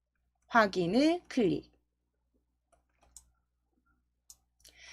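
A few faint, separate mouse clicks on the OK button in Excel, sparse and quiet, coming after a short stretch of a person speaking.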